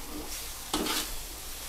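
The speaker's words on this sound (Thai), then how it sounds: "ผัดเลยครับ" Bean sprouts are stir-fried in a hot wok for pink rice noodles, giving a steady sizzle with one brief, louder burst of tossing and scraping near the middle; no voices.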